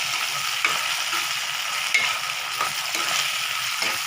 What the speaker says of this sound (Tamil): நம்ம சிம்மில் வச்சு நல்லா இது கூடயே வதக்கலாங்க